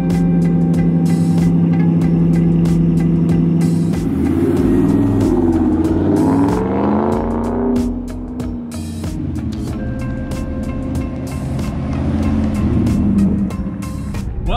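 A 2019 Ram Rebel pickup's engine cranks and fires up loud and close, then settles into a steady running rumble that swells as the truck pulls away and keeps driving.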